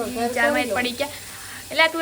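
Spices sizzle in hot oil while tempering dal for vaghar, a steady crackling hiss running beneath close, continuous talking.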